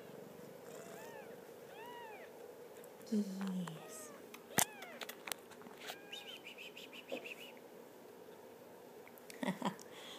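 Two-week-old kittens give faint, high, rising mews in short scattered bursts against a quiet room, with a person speaking briefly among them.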